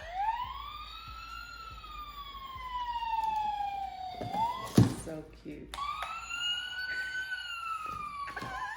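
Wailing electronic siren from a small plastic toy police car, rising and falling in long sweeps, stopping briefly with a clunk, then starting again, while someone talks softly over it.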